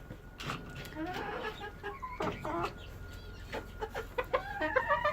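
Several hens cluck and murmur close by, irregular bursts of clucking overlapping with a faint background hum.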